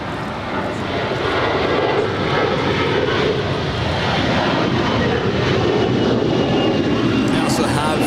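Jet airliner engines roar at LAX, a loud continuous rumble holding steady throughout, with air traffic control radio voices talking over it.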